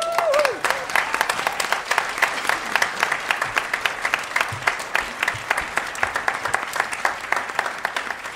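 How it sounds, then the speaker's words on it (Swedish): A bar audience gives a warm round of applause for a performer, dense steady clapping filling the whole stretch at close range, with a brief voice at the very start. "En varm applåd för Sylvester Schlegel."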